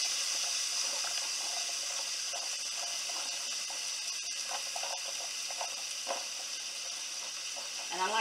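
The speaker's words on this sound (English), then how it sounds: "Start to saute your green peppers and onions." Green peppers and onions sauté in a hot pan with a soft, steady sizzle, close and moderate in level, broken by small scrapes and clicks of stirring.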